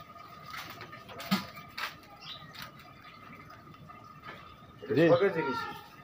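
Sirazi pigeons in their coop give soft, low cooing calls, with a louder burst of warbling coos near the end, while people talk nearby and occasional rustles sound in the background.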